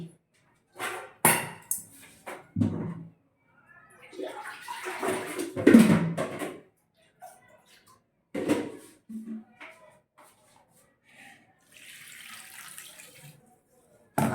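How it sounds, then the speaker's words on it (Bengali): Water poured into a pot while making a homemade cough syrup with palm sugar candy, heard as intermittent close splashing pours separated by quiet gaps. "এবার আমি এতে জল অ্যাড করছি"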